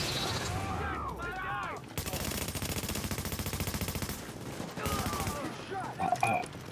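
Gunfire in the video game Tom Clancy's The Division, Dark Zone mode: a sustained automatic burst of rapid shots lasting a few seconds, loud and close, with brief game sounds before and after and no talk over it.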